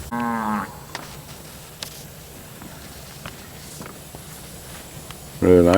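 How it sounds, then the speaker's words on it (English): Steers at a cattle auction give two loud, drawn-out moos, one at the start and one at the end, with only faint shuffling and scattered knocks between them. "There's a group of steers right there walking."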